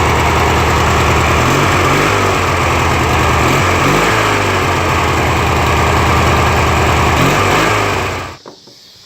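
A Briggs & Stratton opposed-twin engine on an MTD LT1442 lawn tractor runs at a high idle with a steady, loud, close-up drone, then shuts off and winds down near the end.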